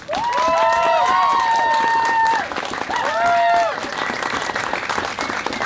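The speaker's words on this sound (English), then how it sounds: "he deserves our applause today" An outdoor rally audience at a march breaks into loud, sustained applause and cheering, with whistles and shouts rising over the clapping before it tapers off.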